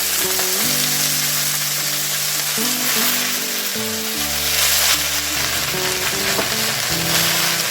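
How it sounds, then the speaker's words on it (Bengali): Washed leafy greens hit hot oil tempered with cumin seeds and dried chilli, giving a loud, continuous close-up sizzle and crackle that runs for several seconds with no talking, over a steady tonal background. "এখন আমি দিয়ে দেবো ধুয়ে রাখা শাক"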